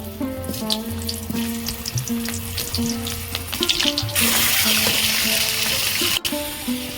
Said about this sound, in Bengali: তেল গরম হয়ে গেছে তেলের মধ্যে অল্প একটু লবণ দেব প্রথমে আমি আলুগুলো ভেজে নেব